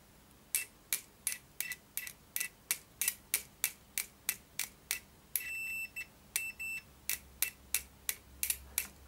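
Continuity tester on a UNI-T UT81B scopemeter, heard as a steady train of short, sharp ticking clicks about twice a second, broken by two brief high beeps, fairly quiet and close with no talk.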